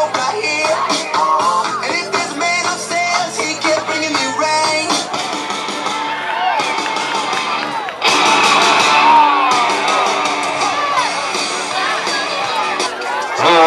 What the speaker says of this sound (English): I expect Oahu to erupt in cheers for your hometown favorites